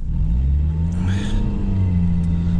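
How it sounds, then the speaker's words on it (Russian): A Toyota car engine revs steadily while its wheels spin in deep snow, a loud sustained low drone with rising pitch, close and continuous throughout. "Вот уже буксует, потому что снега, ого-го"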